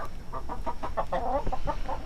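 Backyard chickens cluck near their roost, a steady run of short rhythmic clucks that rise into a louder cackle midway, over a constant background hiss, with no talking.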